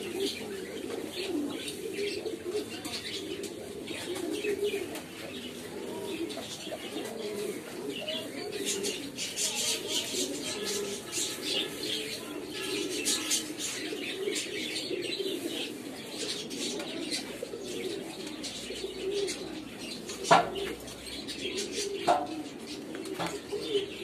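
Pigeons on a farm of local and imported birds keep up a continuous layered cooing, with scattered chirps and occasional wing flaps, moderately close and steady throughout with a couple of sharper knocks near the end.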